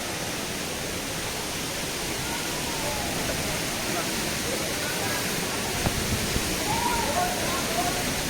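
The Godhas waterfall in Nuapada, Odisha, roars in a continuous, even rush of falling water, loud and close, with a faint voice briefly near the end.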